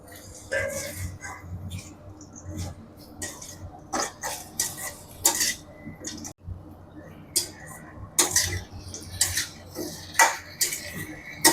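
Fried rice being stirred together with chicken Manchurian in a pan, giving repeated scraping and clinking of a metal spoon against the pan in uneven strokes, with a voice talking at times.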